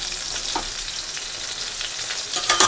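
Onion with green chili, bay leaf, dried chili and nigella seeds fries in oil for a bottle gourd and fish-head curry, producing a constant close, loud sizzling hiss that swells briefly near the end.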